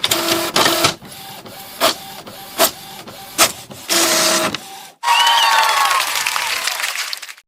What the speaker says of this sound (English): and make your mom's printer work.